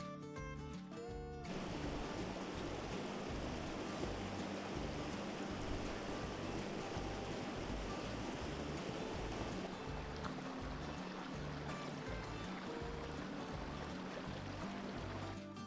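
A rustling creek near Glen Lake rushes in a steady, dense wash of water noise that runs close and continuous throughout, with no voices.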